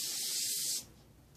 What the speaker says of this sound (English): I watch how big the spray is coming out of my needle